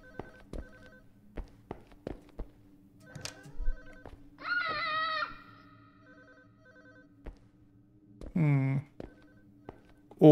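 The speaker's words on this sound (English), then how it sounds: "What is that? A phone?" A telephone rings in a horror video game: two bursts of trilling bell, the first longer and the second short, amid scattered taps and footsteps in an otherwise quiet room.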